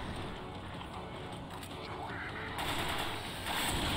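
Dense, continuous gunfire from the Resident Evil 5 video game, a steady rattle of rapid shots with louder bursts toward the end, playing alone without speech.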